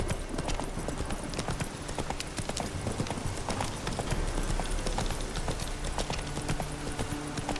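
A horse gallops in The Witcher video game, its hooves clip-clopping in a fast, steady rhythm over continuous dense ambient noise, moderately loud.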